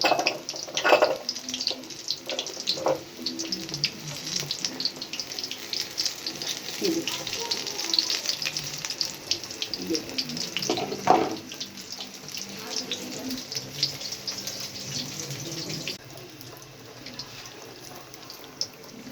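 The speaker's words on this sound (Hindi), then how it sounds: "ये बैंगन के भी पकौड़े किस कदर अच्छे फ्राई हो रहे हैं, फूले फूले" Eggplant pakoras deep fry in hot oil, giving a constant close sizzling hiss with scattered crackles and pops that carries on throughout and eases slightly near the end.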